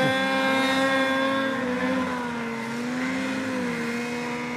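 A turbocharged snowmobile engine works hard up a steep snowy hill, a loud, steady whine with a strong harmonic drone that dips and rises slightly as the throttle holds, close and continuous with no talk.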